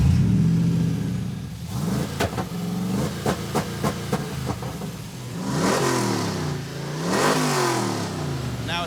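A Hemi engine in a Gremlin car revs loudly and close, with several quick blips of the throttle and then two longer rising and falling revs over a rough idle, no talking.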